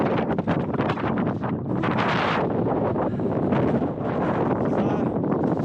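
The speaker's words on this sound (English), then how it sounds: "Windy here, camping." Strong, steady wind roars and buffets the microphone in loud, rough gusts on a hilltop wild camp, with no voices.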